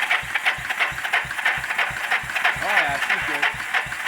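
A 1980 Yamaha SR250 motorcycle single engine cranks over on the starter with the throttle held open during a compression test, giving a steady run of even, rhythmic low chugging pulses, close and moderately loud, with a voice speaking over it.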